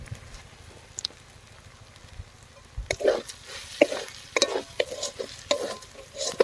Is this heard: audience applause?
no